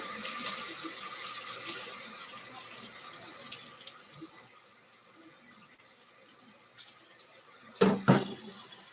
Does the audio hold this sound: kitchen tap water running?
yes